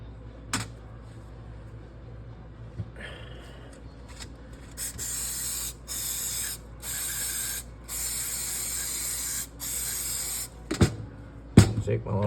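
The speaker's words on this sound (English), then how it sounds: "now we're going to brake clean the outer, the inside, clean some parts, clean all the jets out, all the needles" Brake cleaner sprays onto carburettor parts, jets and needles in a garage: a series of loud, hissing bursts of about a second each, separated by short pauses, with clicks and clunks of handling between them.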